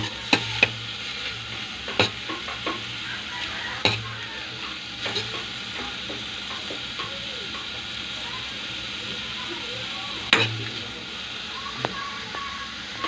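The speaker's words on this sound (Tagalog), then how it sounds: "Igisa muna natin ang lahat ng ating nilagay pang-aroma." Tomato, onion and aromatics are sautéed in a pan for pork sinigang, giving a soft continuous sizzle broken by scattered sharp clicks of a utensil against the pan.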